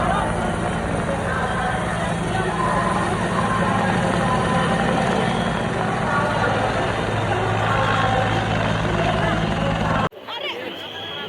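A helicopter showering rose petals over the crowded Maha Kumbh Mela on Maghi Purnima, a loud steady rotor and engine roar over crowd babble that cuts out abruptly near the end.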